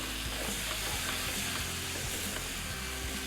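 Food sizzles steadily in a hot pan while a utensil stirs it, with scraping knocks and a constant frying hiss throughout, close and fairly loud.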